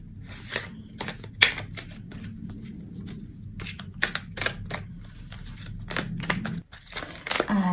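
Tarot cards are shuffled and handled, producing a run of crisp, papery flicks and taps, close and fairly loud, with a low hum underneath.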